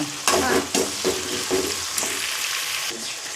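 Chopped tomatoes fry in hot oil for tomato fried rice, a loud close sizzle broken by repeated rhythmic scraping strokes of a spatula through the pan, steady and without talk.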